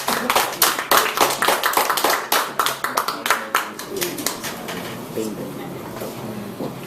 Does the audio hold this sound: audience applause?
yes